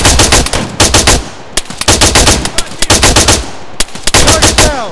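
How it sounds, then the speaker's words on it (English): Bursts of machine gun fire from the Arma 3 video game crack loudly and close in rapid rhythmic strings, broken by brief pauses between volleys. "Engage that machine gun!"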